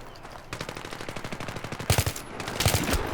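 Rapid automatic gunfire in Battlefield 3 set to three-round burst, with repeated short shots rattling in quick groups that grow louder toward the end, heard alone.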